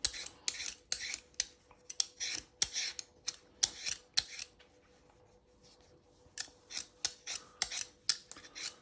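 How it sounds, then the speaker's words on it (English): Knife blade scraping skin from a fish fillet for fish and chips, heard as a quick series of crisp, rasping strokes in bursts, close and fairly quiet, with a short pause midway. "So you're just getting all the skin off."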